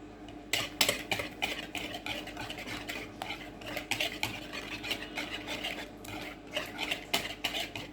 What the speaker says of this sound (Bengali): এখন আমি এখানে 1/3 কাপ সুজি নিলাম,